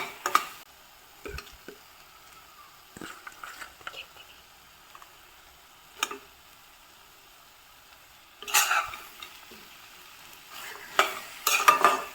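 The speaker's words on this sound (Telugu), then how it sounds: "డ్రై ఫ్రూట్స్ని వేసి మిక్స్ చేసుకొని" A spoon stirs fried dry fruits into thick carrot halwa in a pan, giving scattered scraping clinks and short bursts of stirring with quiet pauses between them, loudest near the end.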